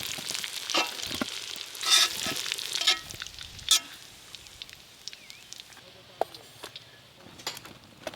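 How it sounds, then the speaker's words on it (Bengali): Elephant foot yam pieces fry in oil, giving a soft, steady sizzle with occasional sharper crackles and utensil clinks, fairly quiet and close. "ওলগুলো একদম লাল লাল করে খুব ভালো করে ভেজে নিয়েছি"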